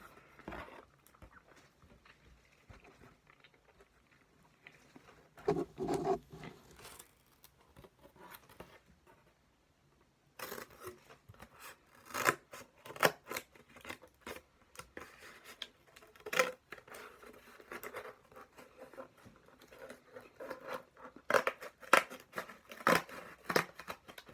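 Scissors snip through cardboard while a lightsaber prop is being built, giving a series of close, uneven cutting and crunching sounds in short bursts, with some quieter handling noise between them.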